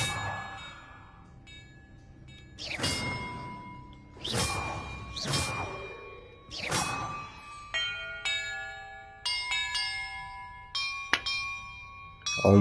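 Bells in the Hogwarts Legacy video game ring out in a sequence of bright, resonant chimes, some preceded by whooshes, each tone sustaining and decaying, with no speech over them.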